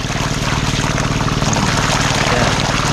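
Irrigation water flowing and pouring around a calamansi tree, a steady close trickle with a faint low engine-like hum beneath it.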